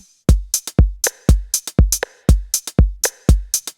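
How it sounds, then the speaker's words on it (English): A drum machine beat with sharp, clicky 808 rim shots over punchy kicks and crisp 909 hi-hats, looping in a tight, steady rhythm. "We're going to get the 808 rim shot here."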